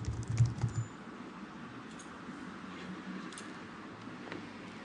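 Fingers type an email and password on a computer keyboard, a quick burst of soft clicking keystrokes at the start, then sparse faint taps over a quiet room.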